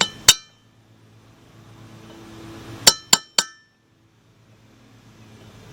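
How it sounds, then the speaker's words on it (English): A chisel is hammered to break the remains of a left front hub bearing out of a 2007 Ford Focus, giving one sharp metallic strike, a pause, then three quick ringing hits in a row, close and clear. "What I'm gonna use is a chisel. And I'm gonna try to go through this end and try to break the rest of that out of there."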